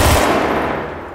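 A single loud gunshot from the video game DayZ bursts close up, followed by a brief decaying echo, with no voices over it.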